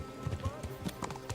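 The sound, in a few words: horse hooves clip-clop while riding in video game Kingdom Come Deliverance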